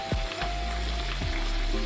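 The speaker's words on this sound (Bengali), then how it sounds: "আলুটাকে দিয়েও আমি মাংসের সাথে কষিয়ে রান্না করে নেব।" Potatoes fry with spiced duck meat in oil, giving a loud, steady sizzle close up, with a few scraping stirs and no voices.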